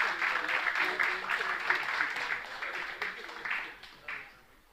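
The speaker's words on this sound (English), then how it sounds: "just a round of applause for his amazing film" An audience at a film and television association event applauds an award-winning filmmaker, moderate clapping that rises briefly then tapers off and fades out.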